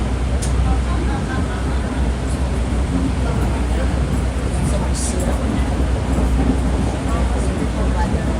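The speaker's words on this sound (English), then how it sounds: "Steam train. Steam engine." Passenger car on the New Hope Railroad riding behind a steam engine, a loud continuous rumble of wheels and car noise with occasional hiss-like bursts, voices faintly present in the car.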